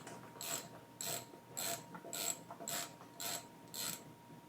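A ratchet wrench snugs bolts on a John Deere LT190 lawn tractor engine, sounding as seven evenly spaced bursts of quick clicking, close and fairly quiet, with a faint steady hum beneath.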